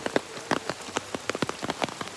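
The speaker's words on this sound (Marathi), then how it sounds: "खूप पाऊस आहे" Heavy rain pours down at a resort cottage, a steady wash of drops pattering on nearby surfaces in quick irregular bursts, close and fairly loud with no voices.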